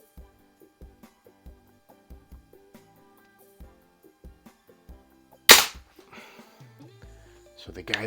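A 1995 Daisy model 499B lever action Target Special BB gun fires a single sharp crack partway through. Quiet ticks and handling noises come before it, and rustling and movement sounds follow.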